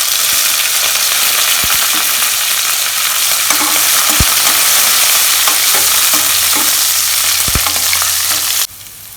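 Curry leaves fry in hot oil for a yogurt potato curry, giving a loud, dense, continuous sizzle with a few sharp crackles and pops before it cuts off abruptly near the end.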